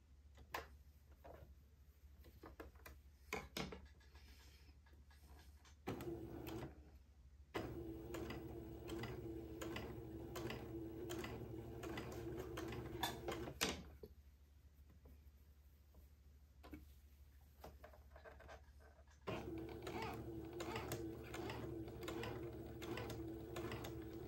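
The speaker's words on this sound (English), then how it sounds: "I'm going to sew another basting stitch." A sewing machine runs a basting stitch on fabric for a diaper shirt, a soft, steady, rapid mechanical patter in several runs with short stops between, close and fairly quiet.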